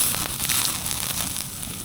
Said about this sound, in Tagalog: Nag-apoy nga siya.